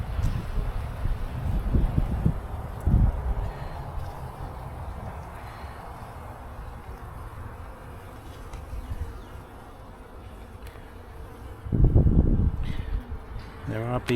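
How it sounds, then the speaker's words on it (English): Honeybees buzz softly around an open beehive during a spring inspection, a faint steady hum beneath gusts of wind noise and occasional handling bumps outdoors. "There are bees walking around with pollen on their legs."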